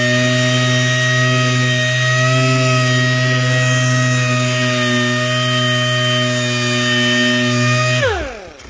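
A dual action sander sanding a car headlight runs with a steady high whine and strong harmonic drone, then spins down abruptly at the end.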